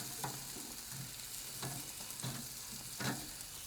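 Vegetables sizzle steadily on a grill while a utensil stirs them, with soft scraping strokes recurring about every half to one second over the continuous frying hiss, faint and close.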